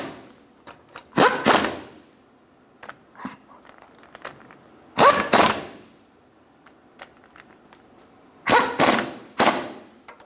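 A wrench ratchets in short bursts while bolts are snugged down on a Toyota Tundra front end, giving three loud clusters of rapid clicks with quieter mechanical ticks between them, and no talk.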